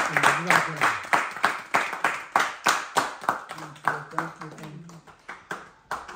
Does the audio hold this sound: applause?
yes